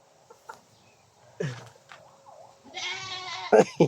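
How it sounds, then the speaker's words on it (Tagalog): A goat bleats in a wavering cry amid farmyard background sounds, with scattered voices and clucking nearby. "Umiyak na yung kambing."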